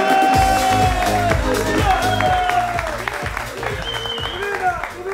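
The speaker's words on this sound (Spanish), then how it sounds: "Un aplauso para ella" Studio audience applause with cheering on a Spanish television variety show, a steady, full burst of clapping lasting the whole stretch over rhythmic background music.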